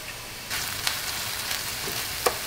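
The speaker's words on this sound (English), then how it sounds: "now we saute a little bit of the shallot, so don't make it black" Shallots sauté in a little oil in a pan, giving a steady, gentle sizzle with a few faint clicks and small pops. No one speaks.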